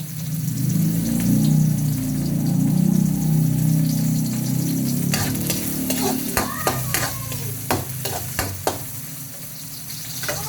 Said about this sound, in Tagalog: Lagay muna natin yung bawang.